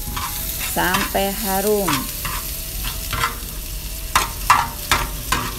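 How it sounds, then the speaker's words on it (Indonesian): Chopped ginger, lemongrass and thinly sliced lime leaves stir-fried in a pan, with steady sizzling and sharp spatula scrapes and clacks, loudest toward the end; a voice speaks briefly near the start. "Seujung jari jahe dicincang halus, serai 2 batang cincang halus, dan daun jeruk diiris tipis-tipis. Gongseng semua bumbunya"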